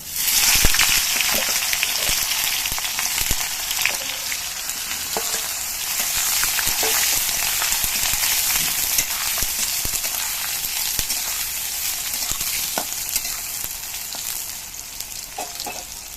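Eggplant pieces fry in hot oil with nigella seeds, a loud, dense, unbroken crackling sizzle with scattered small pops and occasional utensil taps, sustained throughout with no talking.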